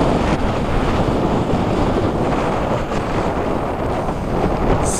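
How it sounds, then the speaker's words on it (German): Gusty wind on the Rungenberghalde hilltop blasts the microphone with a loud, unbroken roar, steady and full from start to finish, with no voices. "Mein Gott, ist halt windig."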